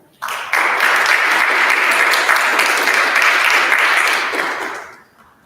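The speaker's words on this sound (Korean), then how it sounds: "박수 합니다." Applause in a church for a preacher, a dense steady wash of many hands clapping that starts abruptly, holds loud for several seconds, then fades out.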